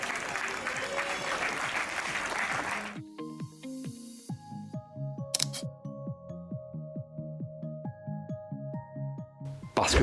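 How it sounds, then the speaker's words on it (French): An audience at a municipal New Year's wishes ceremony applauds local athletes, a dense burst of clapping lasting about three seconds before giving way to light plucked music. "Merci de les applaudir."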